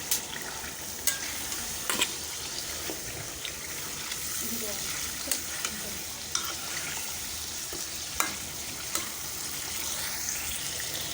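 Chicken pieces go one by one into sizzling spice paste in a pan, with steady frying hiss punctuated by sharp scrapes and clacks of a spoon, while a voice speaks now and then.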